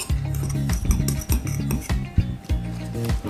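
A utensil stirs and scrapes in a bowl, mixing grated biscuit powder into homemade doughnut batter, with quick repeated clinks and scrapes up close and no talking.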